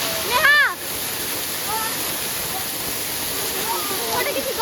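A huge waterfall in Nepal thunders close by as a dense, unbroken roar of falling and splashing water, with a few brief higher calls above it.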